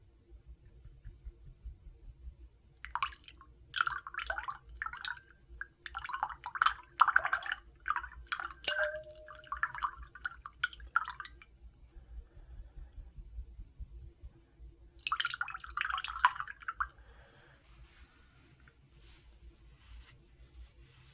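Paintbrush rinsed in a water cup to wash out face paint, soft close swishing, dripping and trickling in two stretches of several seconds each, with a quiet background hum between them.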